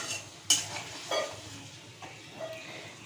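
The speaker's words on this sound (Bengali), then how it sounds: "তার মধ্যে 4টে আমি কাঁচা লঙ্কা ফেলে দেবো।" Four green chillies are dropped into a hot, sizzling pan while mustard hilsa cooks: a soft, close hiss runs throughout, broken by a few brief splash-crackles as they land, with faint utensil clinks.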